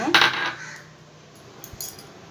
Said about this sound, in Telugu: ఇందులోనే మనం పుట్నాల పప్పు శనగపలుకులు ఎండి వేయించి పెట్టుకున్నాను ఇది వేసుకుంటాను